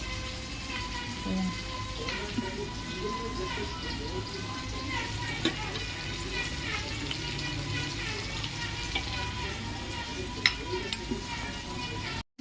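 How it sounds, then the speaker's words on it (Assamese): Fish frying in a pan with oil, a steady loud sizzle and crackle throughout, with occasional sharp pops and some stirring. "মাছ ভজা হৈ গ'ল, ফুটিছে"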